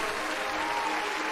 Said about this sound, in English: thanks, babe, for reminding me that the applause sound clip is way too long